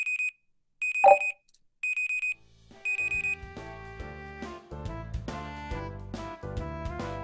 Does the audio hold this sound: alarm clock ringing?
yes